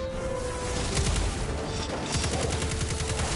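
Rapid automatic gunfire from a bot weapon in Destiny 2 on PS4, a dense continuous stream of shots blending into a loud crackling roar that barely lets up.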